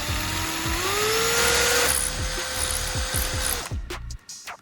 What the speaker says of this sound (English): Next, I need to drill out the inside so that later I can insert the soldering tip into it.